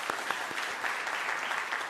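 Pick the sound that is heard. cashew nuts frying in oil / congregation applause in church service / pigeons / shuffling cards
congregation applause in church service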